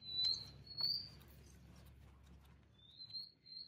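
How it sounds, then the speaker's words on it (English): Birds sing faintly outdoors beside a sound studio, with a few high thin chirps and whistles over quiet low ambient rumble. "you can just hear a bit of bird song"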